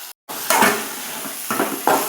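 Onions frying in a pan with ground paste added for a home lunch curry with drumstick and curry leaves, a close sizzle with a few scraping stirs and clinks of a utensil against the pan.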